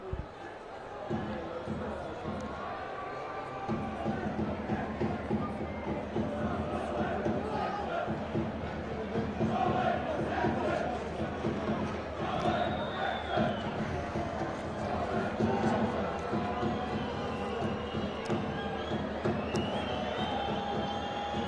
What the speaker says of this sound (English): to hear your crowd chanting your name in support and congratulation